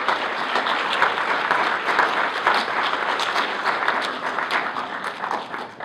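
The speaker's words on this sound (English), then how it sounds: "So maybe a round of applause for everyone that's been doing" A conference audience at a family event applauds steadily, a dense crowd of claps sustained at even volume throughout with no voices breaking through.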